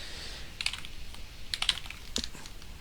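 Someone types a root password on a computer keyboard in short bursts of quick, light keystrokes separated by brief pauses, close up and fairly quiet with no talking.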